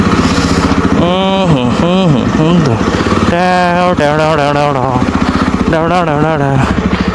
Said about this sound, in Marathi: इथून जरा नीट काढायला लागतं बाईक